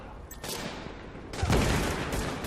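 Gunfire in The Division video game: dense bursts of automatic fire, loud and continuous across the clip, swelling harder in the second half with no clear pauses.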